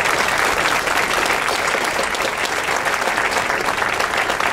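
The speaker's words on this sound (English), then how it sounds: "Let's give our elected officials and sponsors a round of applause." An audience at a gathering for elected officials and sponsors claps in sustained, loud applause that holds steady throughout.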